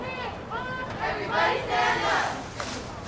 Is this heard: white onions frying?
no